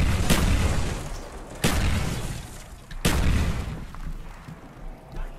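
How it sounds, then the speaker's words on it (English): Three heavy grenade explosions go off in Call of Duty Zombies, each a sharp boom with a rumbling tail, spaced roughly a second and a half apart, loud with no talking. "immediately throw all of your grenades into this corner"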